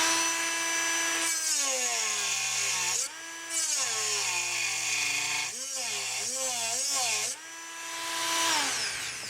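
A rotary tool grinds into a thick Dell XPS case panel, a loud high whine whose pitch sags and recovers as it bites in short passes, with brief pauses between cuts.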